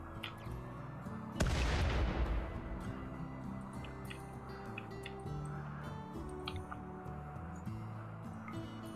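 Burst of gunfire in the colony survival game RimWorld on a sea-ice map, a loud broadband blast near 1.5 seconds decaying over a second, then a steady game soundscape with tonal music and scattered small clicks.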